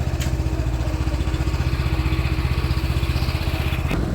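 A Yamaha motorcycle idles close by with a steady, even engine throb that holds for the whole stretch, with no speech over it.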